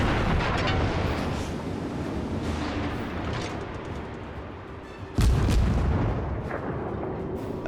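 Naval gunfire from a battle in World of Warships, with a tier 1 American cruiser under attack. Continuous rumbling cannon fire and impacts fill the scene, and a heavy, close boom hits sharply partway through.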